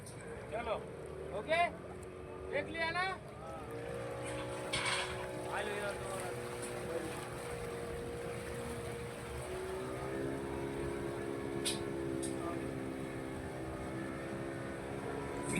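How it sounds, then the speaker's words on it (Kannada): Tourist boats on the sea off Goa, their motors droning in a steady, moderately loud hum that builds through the middle and holds, with brief voices near the start and light wind over the microphone. "ಎಲ್ಲ ಬೋಟ್ ಬರಾಕತ್ತ ನೋಡ್ರಿ"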